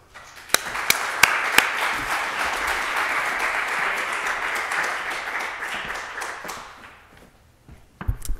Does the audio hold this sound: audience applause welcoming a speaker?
yes